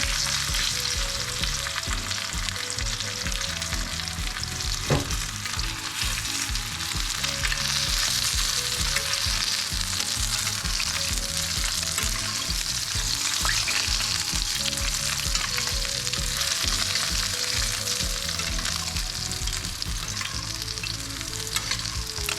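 A 28-day dry-aged steak sizzles hard in a hot pan while it is basted. The frying is loud, steady and close for the whole stretch, with no talk over it.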